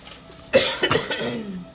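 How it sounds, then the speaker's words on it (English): A single close, sharp cough bursts out, followed by a couple of smaller coughs and a trailing throaty sound against a quiet background. "sorry about coughing on camera"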